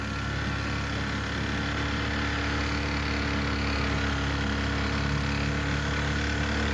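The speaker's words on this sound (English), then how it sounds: "Let's cut off the engine for a minute and get some peace." Outboard engine on a boat idling steadily in an alligator refuge swamp, a constant close, even drone with no speech throughout.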